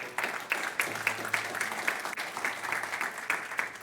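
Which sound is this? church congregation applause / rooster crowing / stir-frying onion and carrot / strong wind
church congregation applause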